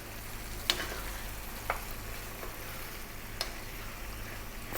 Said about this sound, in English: Stay on this high heat. We're now going to drop in our pasta.